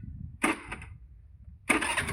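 A Honda Activa scooter engine starts in two short bursts, the second catching and running on briefly, close and fairly loud with no talk over it.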